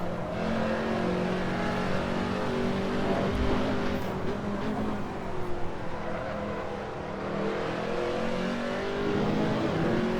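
BTCC touring cars racing at Pembrey in a racing video game, with a continuous engine drone that rises and falls through gear changes and revving, and a brief tyre squeal, loud and close with no talk.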